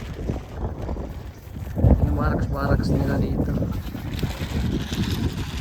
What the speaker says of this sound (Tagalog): Mahangin ngayon dito, ah.